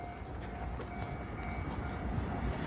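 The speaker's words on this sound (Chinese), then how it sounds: "列车这个啊接近终点的声音啊。" A train nears its final station at Ruisui in Hualien, Taiwan, making a soft, distant rumble of rolling carriages that holds steady and low throughout.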